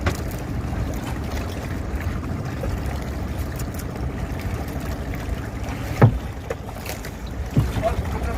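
A small boat's motor drones steadily throughout with wind noise over it, and a couple of brief knocks stand out near the end.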